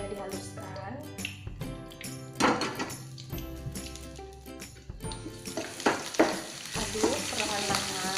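Ground spice paste sautés in hot oil in a wok, crackling and sizzling up close while a utensil stirs and clinks against the pan in uneven bursts.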